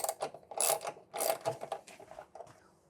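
Socket wrench ratcheting a bolt out of a custom cafe racer motorcycle, a burst of quick clicking pawl strokes followed by a second run, close and fairly quiet, trailing off.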